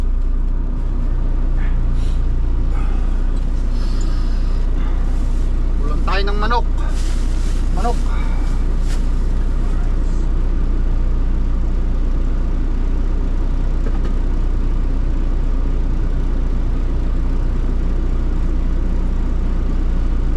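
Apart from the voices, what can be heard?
truck engine started and idling to warm up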